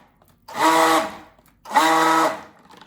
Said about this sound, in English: we do not need this immersion blender anymore